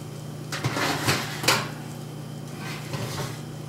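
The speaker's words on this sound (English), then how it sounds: "We shall pull this masterpiece out of the oven." Oven door clatter and metal tray knocks as a freshly baked pie, about 35 minutes in the oven, is pulled out; a few soft clunks and scrapes spread over a few seconds at moderate volume in a quiet kitchen.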